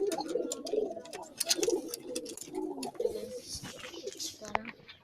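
Homing pigeons coo in a steady, overlapping murmur close by, with scattered chirps and wing-like rustles over a busy background.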